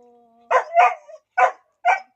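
Four sharp dog barks ring out close and loud, the first two quickly paired and the last two spaced farther apart, after a faint thin whine at the start.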